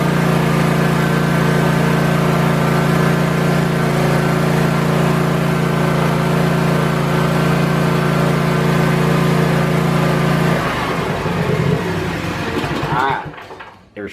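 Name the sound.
Kawasaki engine running at wide open throttle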